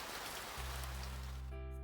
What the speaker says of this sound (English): A cold wave rushed through me, the rain making its presence known.